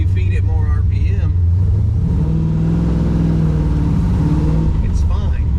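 A car engine fitted with an MSD Pro Billet distributor rumbles loud and close, rising as it is revved, with someone speaking over it at the start and end.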